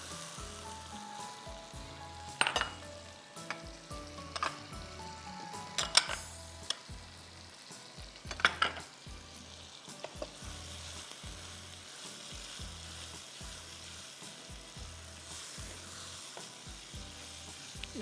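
Chopped tomatoes frying with ginger garlic paste in a pan, a soft steady sizzle with occasional scrapes and clinks of a spoon stirring against the pan, fairly quiet and without voices.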